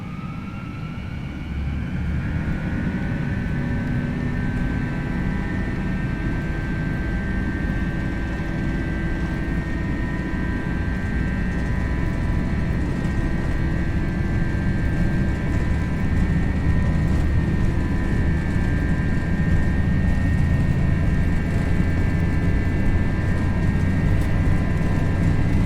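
Airbus A321 engines in a flight simulator spool up to takeoff thrust, a steady loud roar with a rising whine that settles into a sustained tone, continuous and dense for the whole stretch.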